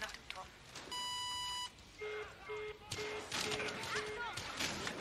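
Answering machine beep at the end of a German family's phone greeting, a single clear electronic tone followed by a faint series of short beeps, with speech and background noise around it.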